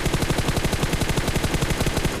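Rapid automatic gunfire from the mobile battle-royale game PUBG Mobile, a steady rattling stream of shots with no pauses, loud and up close.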